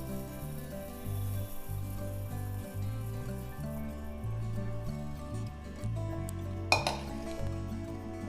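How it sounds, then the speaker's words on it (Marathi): Roasted sesame seeds being tipped into a mixer jar, with scattered light clinks and scrapes of utensils against the jar over a steady low background hum and one sharper clatter near the end. "आपण हे तीळ मिक्सरच्या भांड्यामध्ये काढून घेऊ।"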